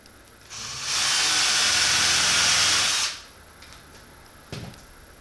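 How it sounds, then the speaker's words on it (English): A power drill whirs loudly and steadily for about two seconds drilling a pilot hole in a dunk tank bucket, then spins down, followed by a soft clunk. "we're going to simply just drill a pilot hole"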